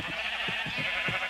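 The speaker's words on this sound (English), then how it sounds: "That is a lot of sheep." Sheep in a video game bleat in a small flock, several short bleats scattered at irregular intervals over a steady hiss of background ambience, with no one talking.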